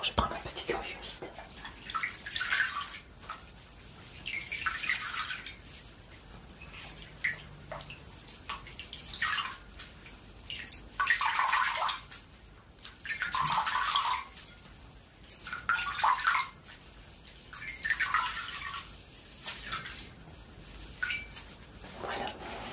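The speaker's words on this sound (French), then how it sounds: "Donc je vais vous rincer. Hein. Alors je prends un petit gant humide." A damp washcloth wiping and wringing with splashing water during an ASMR barber-shop rinse, coming in soft, close bursts with drips between them and whispered talk over the top.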